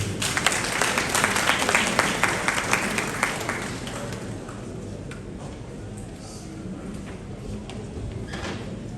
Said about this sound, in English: Please, let's give it a round of applause.